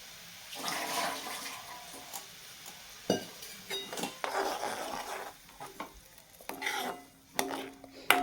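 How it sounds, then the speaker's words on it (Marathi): Tadka tempering for dahi tadka being sautéed in a pan, with bursts of loud sizzling and sputtering mixed with spoon stirring and scraping against the metal, close and uneven, no talk. "आणि छान परतून घेऊया"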